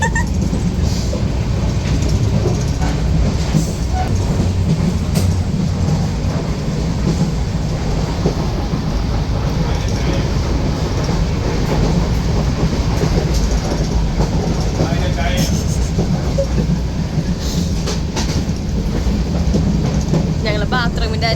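A passenger train rolls steadily along the rails during a family trip, its loud continuous rumble and rattling clatter heard from inside a carriage, constant throughout with faint background voices.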